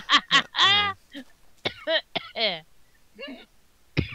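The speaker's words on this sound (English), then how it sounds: "You just laughed yourself into a cough" A short cough follows laughter, among bursts of voices and talking.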